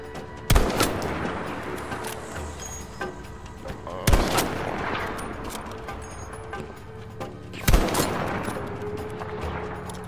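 Three loud, sharp sniper rifle shots from the Battlefield video game ring out roughly every three and a half seconds, each followed by a rolling echo, over steady battlefield ambience.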